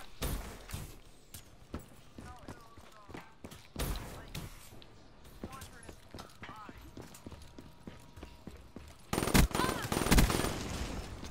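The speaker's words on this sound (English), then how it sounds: "I hate that shotgun. What is it, the haymaker?" Haymaker shotgun blasts in Black Ops 3 multiplayer, heard as sharp bursts scattered among other rapid game gunfire, with a louder cluster of shots near the end and a person talking over the action.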